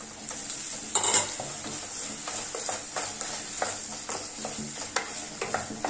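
Boiled potatoes sizzle softly in a pan while a spoon stirs and scrapes against the metal, producing irregular clinks and scraping taps over a steady frying hiss, close by with no voices.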